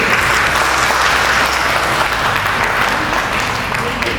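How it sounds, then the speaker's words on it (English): A business club audience gives a loud, steady round of applause, thick continuous clapping from a large crowd for the full stretch. "Please give a big round of applause"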